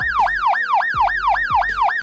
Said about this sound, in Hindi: एल्प टू या हाइपर एल्प साउंड